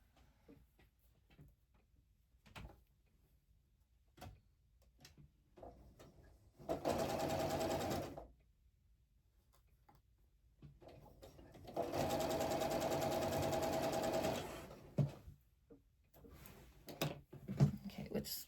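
A sewing machine stitches quilt nine-patch blocks in two sustained bursts, the second longer, with light handling clicks and shuffling between runs.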